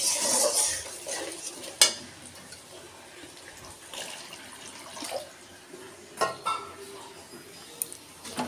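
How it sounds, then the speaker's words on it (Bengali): Spice-rinse water poured into a pan of frying spices for a potol hor gouri dish, giving brief splashes and a soft hiss, with clinks of utensils and stirring scrapes between quieter stretches. "এবার আমি এতে মশলা ধোয়া জলটা দিয়ে দেবো।"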